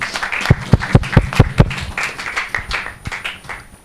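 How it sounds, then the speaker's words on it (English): Audience clapping for an ambassador at an Indian Embassy event in Mali, starting as a few loud, distinct claps near the mic and then spreading into looser scattered applause that gradually thins out. "let's clap for him"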